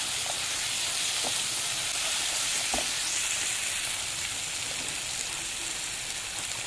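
Cumin and turmeric powder fry in a pan for a fish-head moong dal, giving a steady, close sizzle throughout with a few faint scrapes of stirring.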